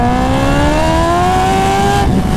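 A Kawasaki Ninja H2 pulls hard in first gear, its engine note climbing steadily and loudly with rising revs, then cutting off near the end.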